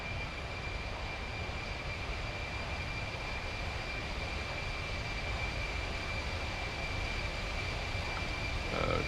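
A C-17 Globemaster III's jet engines in the X-Plane 11 flight simulator make a steady, dense, unbroken roar with a faint high whine, holding a constant level throughout.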